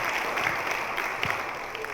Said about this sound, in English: So please, just give her one more round of applause for me.